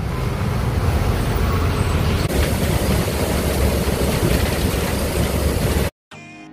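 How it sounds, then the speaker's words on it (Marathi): Heavy road traffic near Kalamboli bridge makes a dense, steady rumble of engines and passing vehicles, loud and continuous, then cuts off abruptly near the end. "आता हा पनवेलपर्यंत फुल ट्रॅफिक भेटेल आपल्याला"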